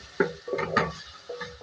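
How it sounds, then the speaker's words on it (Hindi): Chopped tomato and red chilli frying in a pan for masala Maggi, with a soft sizzle under several clinks and scrapes of a spoon stirring against the pan, close and fairly loud, no talking. "और फ्राई करेंगे।"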